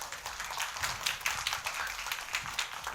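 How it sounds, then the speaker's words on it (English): An audience at a CPU 2025 talk on responsible waste management gives a soft round of applause, an even wash of clapping heard from a distance with no talking over it. "Give us a round of applause."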